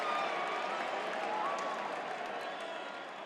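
A crowd applauds and cheers as celebrities arrive, a dense steady roar of clapping and voices, with some chatter mixed in.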